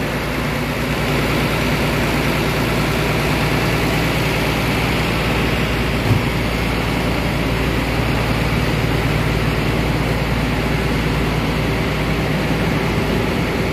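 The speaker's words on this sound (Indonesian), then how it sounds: "Jadi sos ya untuk Hino RK8 ini yang sangat saya suka, itu suaranya sangat sos sekali" A Hino RK8 bus engine idles in a bus company garage, a loud, steady low rumble with a constant drone that runs unbroken and close throughout.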